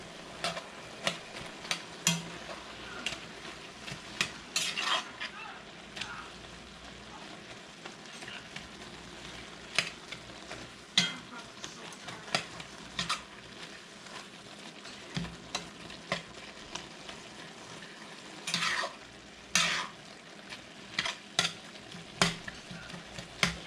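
Ground meat for spaghetti sauce fries and sizzles steadily in a pan, with repeated scraping stirs and utensil clatter breaking through the hiss over nearly half a minute; no one speaks.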